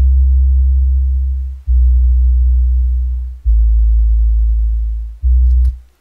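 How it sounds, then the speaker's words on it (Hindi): Deep sine-like super bass synth from an FL Studio Bhojpuri song project, four long sustained low notes that swell and decay, loud and alone with no talking. "सुपर बेस सुना देते हैं"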